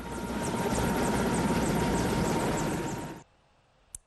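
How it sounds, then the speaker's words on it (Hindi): A helicopter roars loudly and steadily overhead while showering flower petals on a hospital as an air force salute to doctors, its rotor drone filling about three seconds before cutting off abruptly, followed by a single brief click. "कहीं हेलीकॉप्टर ने फूलों की बारिश करते हुए डॉक्टर्स का आभार जताया।"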